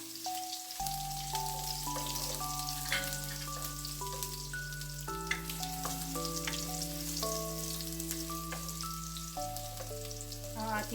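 Garlic sautéing in a pan for squid adobo makes an even, constant sizzle running under loud background music for the whole stretch.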